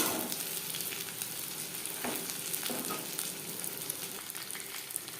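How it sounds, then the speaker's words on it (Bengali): Fish pieces coated with masoor dal frying in hot oil, a steady soft sizzle and crackle with occasional brighter pops, close and fairly quiet, no talking. "উল্টে পাল্টে ক্রিস্পি করে ভেজে নিয়েছি।"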